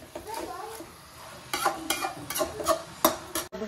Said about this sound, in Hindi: मटन को हम इसमें थोड़ा सा फ्राई करेंगे।